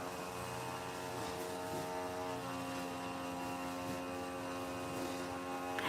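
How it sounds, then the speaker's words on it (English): A lawn mower cutting grass somewhere nearby, heard as a steady, even engine drone with a humming tone that runs unbroken throughout, with no talk over it. "Is some guy cutting the grass?"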